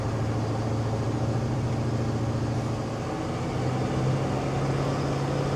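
A 1977 Ford F100 short bed restomod with a 351 V8 pulls in second gear, its steady engine drone heard from inside the cab and rising in pitch partway through as the pedal goes down.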